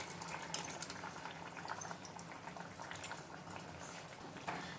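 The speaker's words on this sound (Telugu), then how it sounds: "చింతపండు పులుపు పోసినా ఉడుకుతా ఉంది" Drumstick and tamarind curry (munakkaya pulusu) boiling in a pot, a soft continuous bubbling simmer at low level with faint irregular pops, no talk over it.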